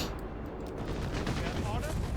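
Dense battle noise from Company of Heroes 3, a World War II strategy game, with machine gun fire rattling continuously amid overlapping explosions and gunfire, loud and unbroken throughout.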